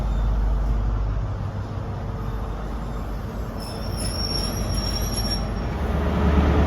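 A Great Western Railway train led by power car 43042 departs Ivybridge station, its wheels squealing high over a steady loud rumble that builds near the end, with no one talking.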